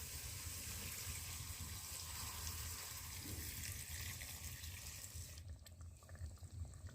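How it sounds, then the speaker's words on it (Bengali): Water runs steadily from a tap into a metal bowl that held chicken meat, a broad continuous gushing wash while the bowl is rinsed and filled, close and constant throughout, with no talking. "তো এখন আমি এই যে গামলাটাতে মাংস ছিল, তো ওটা ধুয়ে জল দিয়ে দিচ্ছি"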